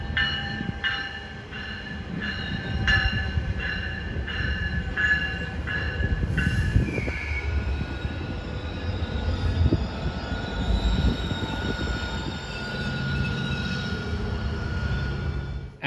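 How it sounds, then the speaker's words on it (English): A six-car GO commuter train with an F59PH locomotive rolls into a station, with steady rumbling, rhythmic wheel clicks and squealing brakes, loud and close with no voices. "our first GO train arrived. It was a 6-car train with an F59PH,"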